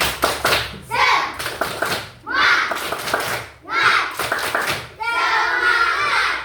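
Schoolchildren in an Indonesian classroom perform a rhythmic clapping chant, bursts of quick claps and young voices in repeated phrases separated by short pauses.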